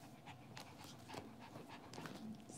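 A dog pants quietly in rapid, steady breaths, faint and close, with small shuffling sounds and no talk.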